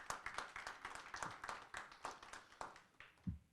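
Scattered hand claps from a small audience at a Nigerian community gathering in Detroit, greeting Imperial Chief Dr. Ikena Duru, fairly faint and uneven, with a low thump near the end.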